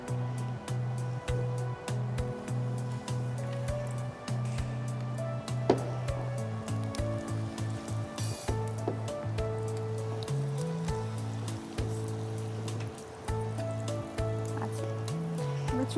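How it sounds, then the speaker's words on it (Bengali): Mozzarella onion rings deep frying in oil over low heat give a faint, continuous sizzle and crackle, partly masked by a steady tonal music bed that plays throughout. "এখন এটাকে আমরা ডিপ ফ্রাই করব।"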